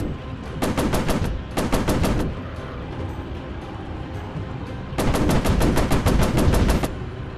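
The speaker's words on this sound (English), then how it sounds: "Overheat the machine guns." Machine guns on an F7F Tigercat fighter in War Planes WW II rattle in three rapid bursts: two short volleys close together, then a longer stream after a pause, loud over a steady engine drone.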